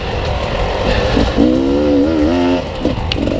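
An enduro motorcycle's rear wheel spins on a slippery clay slope, its engine revving loud and close in a steady, wavering drone while the tire struggles for traction.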